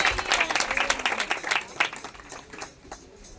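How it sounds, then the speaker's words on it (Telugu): A congregation clapping loudly at a house-warming prayer gathering, dense rhythmic claps in close succession that thin out and fade toward the end. "ప్రభుని మహిమపరుస్తూ గట్టిగా చప్పట్లు కొట్టి ప్రభుని కనపడదాం"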